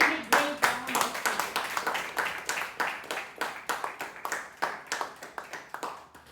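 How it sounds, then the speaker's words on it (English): A small club audience at a Toastmasters meeting claps in a steady, rhythmic round of applause with individual claps clearly distinct, and a voice is heard briefly at the start. "applause."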